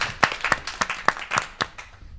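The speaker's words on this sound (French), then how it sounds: "on peut applaudir." A brief burst of audience applause on a French television show, scattered hand claps at moderate volume from a studio crowd, lasting about two seconds.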